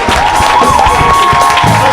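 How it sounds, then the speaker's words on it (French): Church congregation shouting and cheering in acclamation during a worship service, a loud, dense crowd roar with overlapping voices close around. "Donne une grande acclamation à Jésus."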